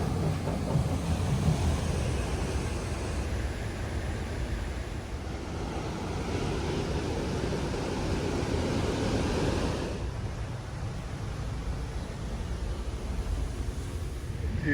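Ocean surf at Anchor Point in Taghazout, Morocco: a continuous broadband wash of breaking waves with gentle surges and wind buffeting the microphone, fairly loud and free of talk.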